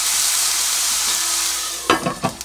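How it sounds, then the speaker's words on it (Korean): Eggplant and onion sizzle steadily in a pan with a mix of sesame, perilla and cooking oil. A few scraping, clattering stirs come in at the end. "가지를 이렇게 기름을 넣고 볶습니다."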